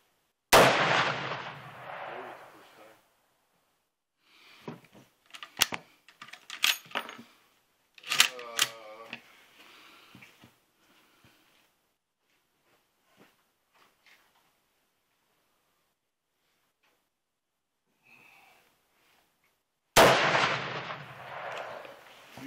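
Mosin Nagant rifle shots fired outdoors, with a loud sharp blast at the start and another near the end, separated by clattering handling noises and a few brief quiet voices.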